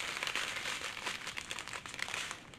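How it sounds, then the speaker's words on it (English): Close, steady crinkling and rustling of plastic diamond art kit packaging fills the whole stretch, with irregular sharp crackles and no talking. "Excuse the crinkling noises if you don't like them."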